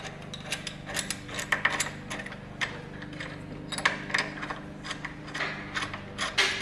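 Ratcheting clicks from a wrench tightening a bolt on the passenger pack mounting of a Harley-Davidson Softail motorcycle, close and moderately loud, in short irregular bursts of rapid ticking with brief pauses.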